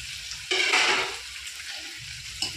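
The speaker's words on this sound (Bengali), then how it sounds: "ভালো করে কষিয়ে নেব নেড়েচে" Mutton and chopped tomatoes frying and being stirred in a pan, a loud burst of sizzling at the start that settles into a steady crackle with scraping stirs, then another short hiss near the end.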